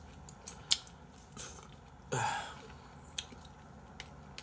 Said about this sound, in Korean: 식감도 좋고 회가 아삭아삭하네